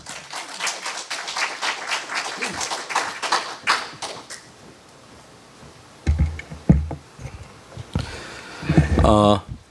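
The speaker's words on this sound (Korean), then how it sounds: "우리 박수로 환영하도록 하겠습니다" A church congregation claps to welcome a visiting missionary, a few seconds of scattered clapping that fades out. Heavy thumps and a voice follow.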